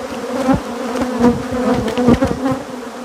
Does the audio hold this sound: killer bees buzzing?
yes